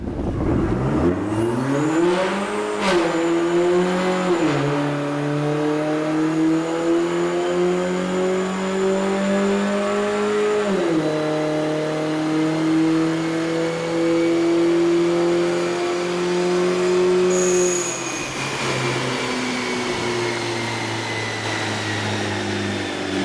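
A tuned car accelerates hard through the gears on a test run, its engine note climbing steadily in several long pulls with a drop at each upshift, loud and close throughout.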